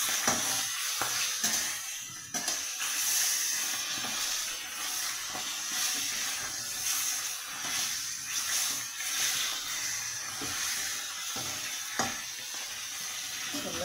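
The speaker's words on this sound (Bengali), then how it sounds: "আমি একটু উল্টে দিচ্ছি আর একটু ভেজে দিচ্ছি" Fish pieces frying in oil in a pan for a curry, giving a steady bright sizzle and hiss throughout with occasional stirring clicks and brief pops, no talking over it.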